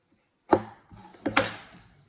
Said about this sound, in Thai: เดี๋ยวขอตัวหั่นเรื่อยๆเด้อจ้ะ